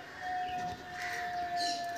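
Pigeons in a loft, including Kaldam and Saharanpuri birds, heard as soft bird calls and cooing over steady background noise, with a thin tonal whine running throughout.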